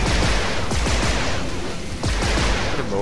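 Rapid bursts of gunfire fill a gunfight in Duke Nukem Forever, with loud close volleys in quick succession, a brief lull near the two-second mark, then more shots.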